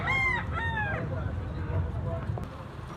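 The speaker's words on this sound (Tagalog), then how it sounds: "Guwapo kay manok si Sangga oh." A rooster crows once, a loud rising-and-falling call near the start, followed by a steady murmur of background noise.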